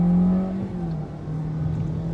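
A 2019 Toyota Corolla XSE pulls away, its engine note steady and moderately loud from inside the cabin as it rises through the revs.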